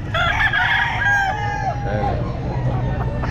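A gamefowl stag rooster crowing loudly and close at a pet market, one long drawn-out crow with clucking among other fowl, while someone speaks briefly.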